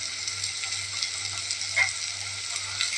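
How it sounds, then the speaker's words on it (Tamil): Chopped tomatoes and onions with turmeric sautéing in a pan for a potato kurma, a steady low sizzle with soft occasional stirring scrapes, close and even throughout. "நல்லா வதங்கிட்டுங்க தக்காளி"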